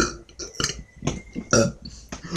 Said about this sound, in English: Stop burping in my face.